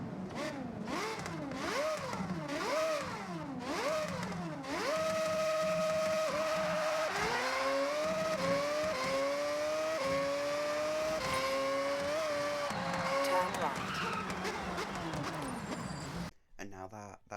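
A racing car engine in Forza Horizon 6 revs up and down repeatedly, sounding like a V8 F1 car, then holds a high whine through rapid gear shifts before cutting off abruptly.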